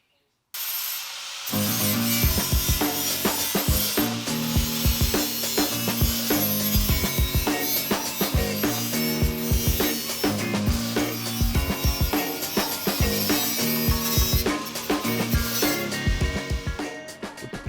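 A metal rear quarter panel on a Mazda MX5 Miata is ground back during rust repair welding, with a loud continuous abrasive grinder whine and rasp that starts abruptly and runs steadily with rhythmic scraping bursts.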